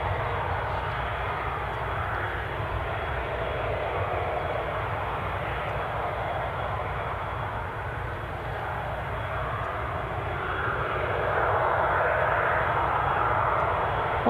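Airplane engines drone steadily at Newcastle International Airport, a broad continuous roar that swells slightly toward the end, heard from a distance without any talking.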